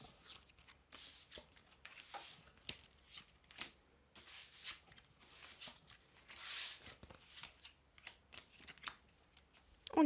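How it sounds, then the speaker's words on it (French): Oracle cards are dropped and shuffled by hand, a soft, close, continuous riffling and sliding with bursts of papery flutter, quiet overall. "je vais faire tomber les cartes comme ça"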